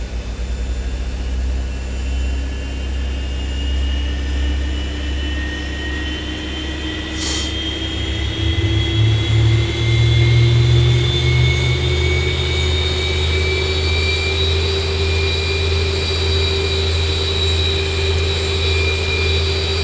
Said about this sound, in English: Alright, we are cleared for engine start, my friends.